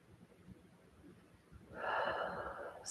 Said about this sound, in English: Taking another deep breath.